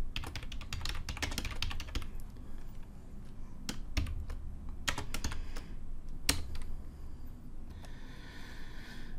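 Fingers type quickly on a computer keyboard, with dense runs of key clicks broken by short pauses and single louder taps. The typing is close, steady and heard alone without speech.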